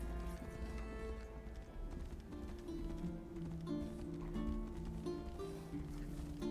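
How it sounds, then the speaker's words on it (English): Horse hooves clip-clopping in a steady rhythm in the video game Tainted Grail: The Fall of Avalon, fairly faint under a continuous musical background. "Come, my noble steed."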